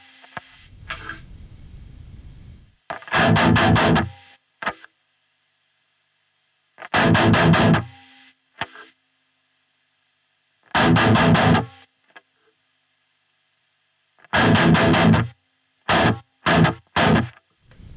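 Distorted electric guitar chords play in short bursts separated by silence, each cut off abruptly by a noise gate with no hiss between.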